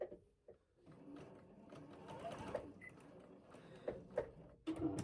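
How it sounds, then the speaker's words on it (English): A sewing machine stitches a quilt seam, starting and stopping in short bursts of quiet mechanical whirring with small ticks and clicks, faint and close, without speech. "And then you just sew away."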